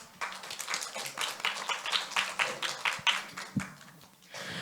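Scattered hand claps from an audience at a school environmental education presentation event, a steady run of distinct, fairly close claps that thin out and stop near the end.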